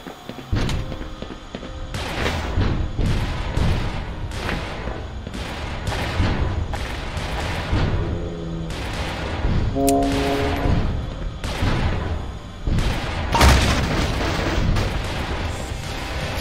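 Grenade explosions and combat blasts in the video game Black Mesa, a long run of loud, repeated booming bursts and gunfire-like impacts at an irregular pace, with brief tonal game sounds in between.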